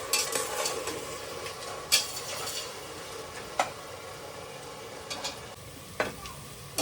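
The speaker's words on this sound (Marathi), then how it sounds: "कांदा मी मोठ्या गॅसवरच भाजतीये." Onions fry over a high gas flame for chicken pulao, a soft steady sizzle broken by several sharp clinks and scrapes of a stirring spoon against the pan.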